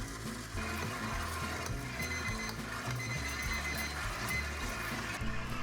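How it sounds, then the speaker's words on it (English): A stand mixer kneads hot cross bun dough with a continuous mechanical whir and rhythmic gear-like ticking and thumping, steady and moderately close for the whole stretch. "let your machine knead for 10 minutes"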